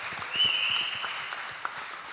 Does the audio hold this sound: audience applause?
yes